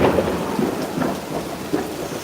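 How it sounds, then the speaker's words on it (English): A very intense thunderstorm in Queens Village, New York City: heavy rain pours steadily while deep thunder rumbles through, loud and close, with no voices. "Very intense thunderstorm here in New York City right now."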